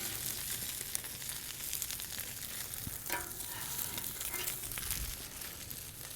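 Hispi cabbage cooking on a hot griddle, a continuous soft sizzle and crackle with occasional scraping and stirring clicks, no talking.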